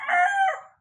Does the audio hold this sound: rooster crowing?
yes